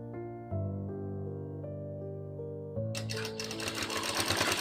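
A sewing machine stitches a frill frock during a tailoring lesson, its steady motor hum running alone for a few seconds before the needle picks up into a faster, louder rattling run.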